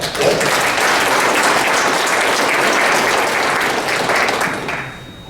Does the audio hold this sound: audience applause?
yes